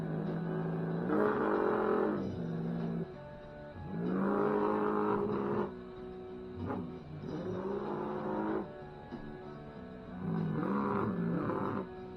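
Monster truck engines racing in a Lego Monster Jam show, voiced by a person imitating the sound: four drawn-out, rising and falling revving roars with short pauses between, close and fairly loud.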